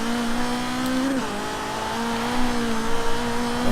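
A BMW M3 E30 engine in Forza Horizon 3 revs steadily with a sustained, loud tone that drops at one point and then climbs again, with tyre noise and a rougher burst of revving toward the end. No one talks.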